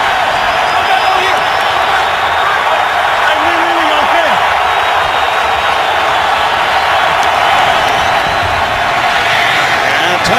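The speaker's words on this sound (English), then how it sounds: "This crowd coming to life." A packed stadium crowd at a Bengals–Dolphins NFL game roars in a dense, sustained wall of cheering and noise, loud and unbroken, with a broadcast commentator talking over it.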